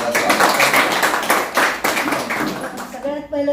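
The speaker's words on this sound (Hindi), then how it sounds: "एक बार जोरदार तालियों से उनका स्वागत" Audience clapping in welcome at a community gathering about a government pension scheme, a dense patter of hands under someone speaking loudly over it.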